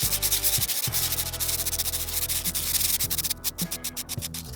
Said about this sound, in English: Sand the surface aggressively.